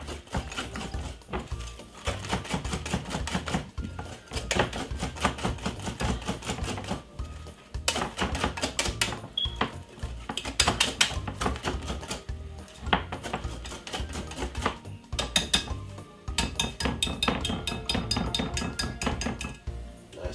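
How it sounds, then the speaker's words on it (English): A whisk beats sponge cake batter in a bowl, producing rapid, loud, rhythmic clicking and clinking against the bowl that runs in quick bursts with short pauses throughout. "Best thing is to do is get a whisk and whisk it like this"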